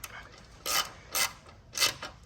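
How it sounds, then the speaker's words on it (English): A half-inch ratchet socket tightens a bolt on a van roof seating mount, giving three short, sharp clicking bursts at a steady pace, close and clear. "go ahead and tighten that down with your 1/2-inch socket"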